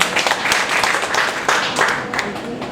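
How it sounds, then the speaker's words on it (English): Pageant audience applauding at a Binibining Bayambang contest, a dense, steady wash of clapping with scattered louder bursts, fairly close and filling the whole stretch without clear talk. "Let's give a big round of applause"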